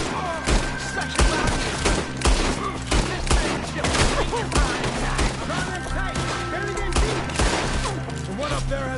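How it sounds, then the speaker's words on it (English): Sustained shootout gunfire in Red Dead Redemption 2, with rapid, loud shots crackling in steady succession against a layered background of game noise and shouting voices. "Shoot the ones up there first!"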